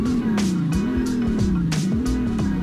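A Chevrolet Silverado SS with a 6-liter LS2 V8 revs in Roblox Greenville, its engine note rising and falling in several quick, loud swells, joined by brief higher whooshes and squeal-like bursts.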